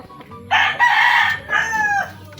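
A rooster crows once at close range, a loud, strained call in two drawn-out parts over quiet farmyard background.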